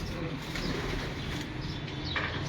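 Rooftop pigeons heard nearby, with soft low cooing, a brief flutter of wings and a few faint chirps over steady background noise.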